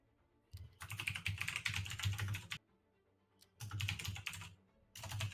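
Bursts of typing on a computer keyboard, three separate runs of rapid clicking with short quiet gaps between them, close and fairly loud with no voices.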